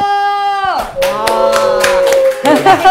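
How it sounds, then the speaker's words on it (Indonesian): An audience in a Malaysian television studio bursts into applause on cue during a celebrity guest introduction, a short, dense round of clapping that fades quickly. "Tepuk!"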